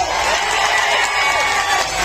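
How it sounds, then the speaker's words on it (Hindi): A large outdoor crowd at a BJP rally in Karnataka cheers and whoops in a loud, continuous wall of noise, with faint speech underneath. "एक बार जोर से उत्तर पूर्व की जनता के लिए ताली बजाइए कर्नाटक वालों"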